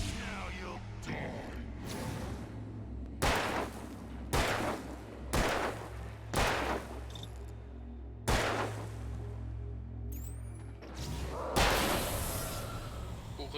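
Gunfire in the video game Alan Wake: a string of sharp, loud shots spaced about a second apart, each with a short ringing tail, over a low, steady game ambience.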